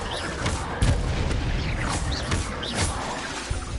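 Confringo spell blasts cast in the Hogwarts Legacy video game, a run of sharp bursting booms with crackling tails, alternating with other spell sounds at a steady close, loud level.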